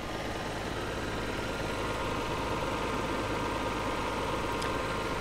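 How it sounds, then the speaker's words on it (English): A 1990 Nissan Skyline R32 GTS-T Type M idles with an unusual noise and vibration, a steady, close, unbroken engine drone with no talk over it. "we have a, an engine sound coming from this engine. I'll give you a listen."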